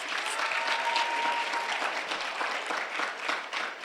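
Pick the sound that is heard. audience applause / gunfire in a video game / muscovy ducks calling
audience applause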